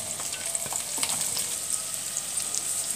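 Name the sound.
julienned onions frying in ghee in a pan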